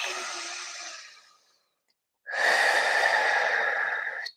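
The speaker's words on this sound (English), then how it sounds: "Deep inhale. Exhale, blowing on the petals." Deep breathing during a children's Earth Day yoga session: a soft exhale fades out, a pause of silence follows, then a long, strong, close breath blown out steadily as if onto flower petals.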